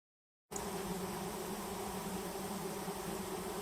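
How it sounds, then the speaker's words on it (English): Bees and other flying insects buzz in a habitat-friendly garden, a steady, dense drone that starts abruptly and continues unbroken, fairly close and even in loudness. "The garden is abuzz with flying insects, all doing their bit."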